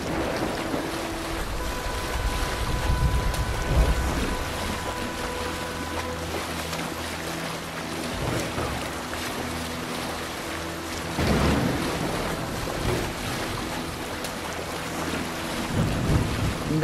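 A Viking longship sails over the sea in Assassin's Creed Valhalla, with steady wind rushing and waves washing against the hull in a constant broad roar and faint tonal game music beneath, and no talking.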